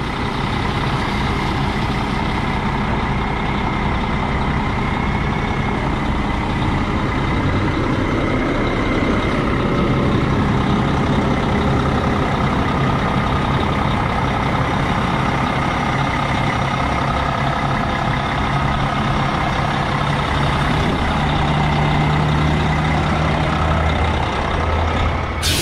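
A 2020 Newell P50 luxury RV maneuvering and reversing, its big engine rumbling steadily with air brake hiss and reversing beeps, heard continuously from nearby outdoors.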